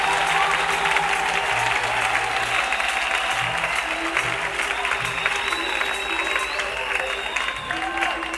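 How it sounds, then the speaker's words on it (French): A church congregation applauds and cheers loudly in praise of the Lord Jesus, a dense and steady roar of clapping and voices that lasts the whole time, with music playing low beneath it. "Acclamez très fort le Seigneur Jésus."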